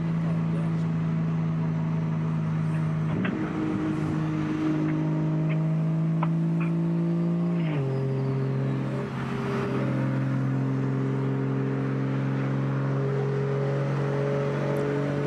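A turbocharged car engine revs and drones steadily, pitch stepping up with each gear change, loud and close with constant road roar.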